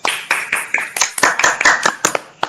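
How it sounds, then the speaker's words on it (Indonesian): A classroom of children applauds, with loud, quick, uneven hand claps overlapping in a lively burst that continues throughout, close to the listener. "Berikan aplaus lagi anak-anak."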